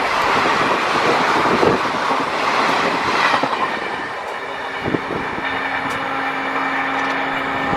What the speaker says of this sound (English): Haldiwari Kolkata Tri-Weekly Intercity Express.